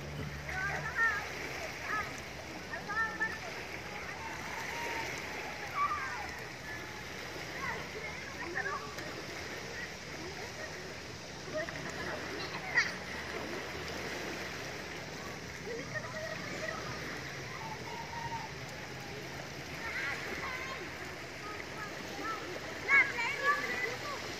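Children splashing while bathing in the sea, with intermittent splashes and water noise over a steady wash, mixed with distant kids' voices and chatter throughout.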